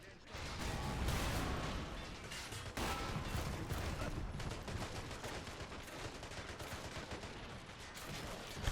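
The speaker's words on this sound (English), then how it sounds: "A lot less MG fire right now, but still quite a generous amount." Dense, continuous gunfire from the Men of War: Assault Squad video game during a Soviet infantry charge on a German defensive line, with machine-gun bursts and overlapping shots filling the whole stretch at a steady, loud level.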